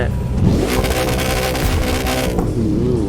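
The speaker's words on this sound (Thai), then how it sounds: "ผมจะสตาร์ทเครื่องกันนะ โอ้ยเป็นไงเสียงค่อนข้างดุไหม เสียงดุเลยทีเดียวใช่ไหม" A Koenigsegg Jesko in The Crew 2 starts up and revs, its engine roaring loud and close, with the pitch climbing and then settling, with no talk.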